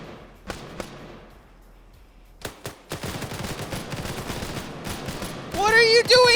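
Gunfire in a large PvP military game match: a few isolated shots, then sustained automatic bursts rattling densely, with voices talking amid the firing.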